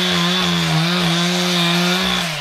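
A Stihl chainsaw runs steadily at high revs cutting a wind-felled pine, its loud buzzing drone holding close and constant with slight dips in pitch as it bites through wood.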